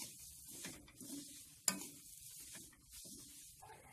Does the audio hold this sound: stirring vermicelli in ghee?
yes